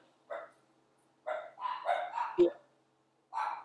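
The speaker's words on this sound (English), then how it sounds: "Oh, there's dogs. Yeah, there's Dogs dogs. going insane in the background." Dogs bark in the background of a casual conversation among friends, in short separate outbursts: one yap, then a rapid run of several barks, then another after a pause, fairly clear against silence.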